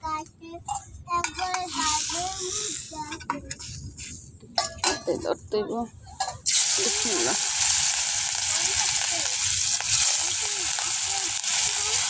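Fish sizzles steadily in oil, starting under lively conversation and clinking utensils, then turning into a loud, dense, unbroken frying hiss for the second half.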